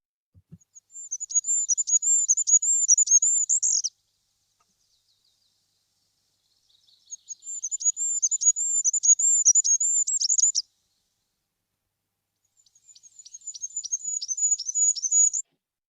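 Woodland bird song at dawn: three bursts of bright, rapid trilling phrases, each a few seconds long, rising and ending abruptly, separated by short silences, close and clear with no other sound.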